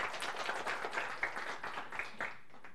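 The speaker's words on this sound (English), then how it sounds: "Okay, then let's give a round of applause." Light clapping from a modest audience closes an academic talk on machine learning systems, a thin scatter of hands fading out near the end.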